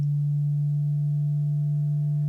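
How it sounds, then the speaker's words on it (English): A Doepfer A-110-4 quadrature through-zero VCO puts out a clean, round sine wave at a low steady pitch, a pure sustained tone with faint upper harmonics, alone and unchanging throughout. "the much cleaner, much rounder sounding sine wave of the through zero"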